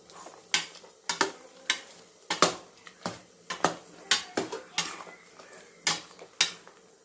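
Chicken bone curry (kuzhambu) being stirred in a pot, a spoon scraping and clinking against the metal in a steady run of sharp, close taps and scrapes with no talking.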